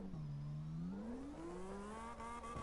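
A car engine in the CarX Drift Racing video game climbs in a steady rising rev while drifting under held throttle, then holds high with a slight dip near the end, loud and continuous with no voices.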